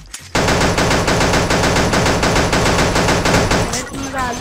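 Rapid automatic gunfire from the game Pixel Gun 3D, a dense, loud burst of continuous shots lasting several seconds before cutting off, with a voice briefly audible at the end.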